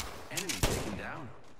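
Gunfire in the Apex Legends video game, a few sharp shots with one loud crack near the middle, mixed with a voice speaking over the action.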